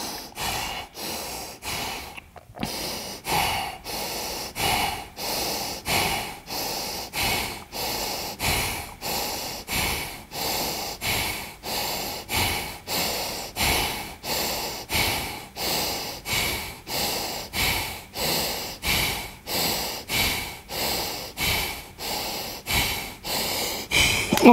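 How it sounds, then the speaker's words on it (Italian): Steady, rhythmic breathing held in a plank position during an exercise session: some two dozen close, loud in-and-out breaths repeating evenly at about one per second, with no talk. "20 respirazioni nella posizione di plank"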